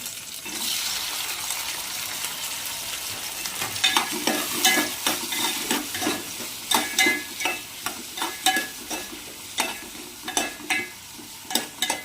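Tomatoes and green chillies frying for a mushroom biryani, sizzling softly at first and then stirred in a quick, regular series of scraping strokes against the pan, close by and without any voices.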